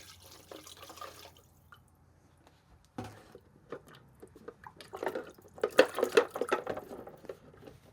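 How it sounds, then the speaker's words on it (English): Vinegar is poured over Stanley No. 9 1/2 block plane parts in a coffee can, producing scattered liquid splashes and drips that build into a denser trickle toward the end, fairly quiet and close. "We're going to douse it down with some vinegar and let it soak for a little while"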